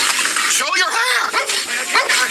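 A dog barks repeatedly and loudly nearby during a police arrest, its sharp barks overlapping with urgent shouted commands from officers.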